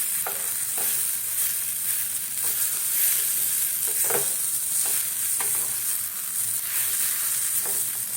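A neem leaf dish sizzles loudly on an oiled tawa while the last of its water cooks off, with a bright continuous hiss and several soft scrapes of stirring, close by with no speech.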